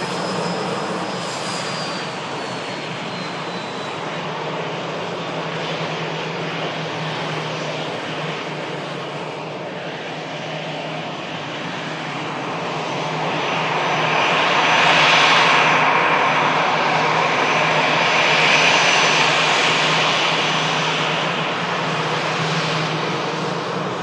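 An Aer Lingus Airbus A320 jet rolls on the runway toward a rapid exit, a loud continuous engine roar and whine that swells midway and holds steady, with no talking.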